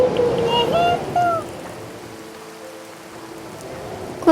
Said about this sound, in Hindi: ये बारिश तो थमने का नाम ही नहीं ले रही।